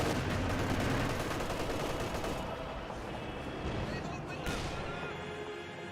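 Sustained gunfire and explosions striking a Panther tank in the real-time strategy game Company of Heroes 2, a dense continuous battle din with repeated shots throughout, talk mixed in underneath.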